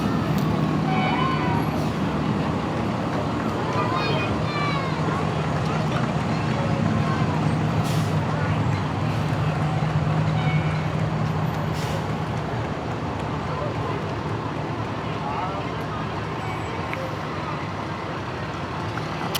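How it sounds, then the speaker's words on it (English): A fire truck rumbles past in a Memorial Day street parade, its engine droning steadily amid crowd noise and traffic, with people talking over the sound throughout. "Every kid loves a fire truck."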